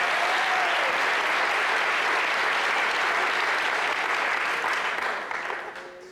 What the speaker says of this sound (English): how many non-smokers are here tonight? Non-smokers, by round of applause.